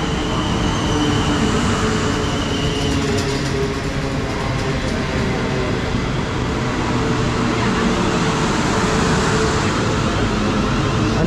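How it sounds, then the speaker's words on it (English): South Western Railway class 450 electric multiple unit pulling into a station, a loud, steady rumble of wheels on rails with a faint squeal partway through, close by and continuous. "arriving here is the 1316 South Western Railway service to Richmond"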